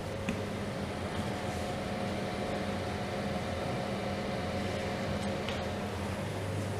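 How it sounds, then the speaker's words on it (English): A fan-assisted kitchen oven running steadily while baking gingerbread, giving a constant airy hum with a low tonal drone, unchanging in level throughout. "That is a fan-assisted oven."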